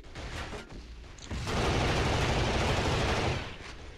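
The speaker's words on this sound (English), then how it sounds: "I just hear gunfire coming from everywhere," Dense, sustained gunfire and explosions from the video game Killzone, a loud continuous barrage swelling after a few scattered shots and holding steady before easing off, with no talk over it.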